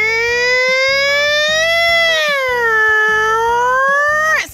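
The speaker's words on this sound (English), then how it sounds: "here's where the siren is so people know that a fire truck is on the way" A toy fire truck siren wails steadily with a rising and falling electronic tone, loud and alone, over a repeating pulsing beat before it cuts off at the end.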